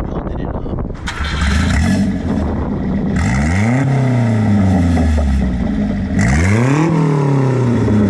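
Subaru Sambar engine with the catalytic converter removed and replaced by welded pipe, revving hard in loud, rising and falling pulls, two distinct climbing revs over steady idle rumble, close up with no talking.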